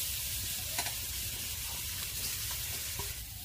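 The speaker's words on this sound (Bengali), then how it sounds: "এবারে কড়ার মধ্যে নারকেলটা আমি দিয়ে দেব।" Grated coconut sizzles steadily in a hot wok while being stirred, a continuous close frying hiss with occasional soft scrapes of the spatula.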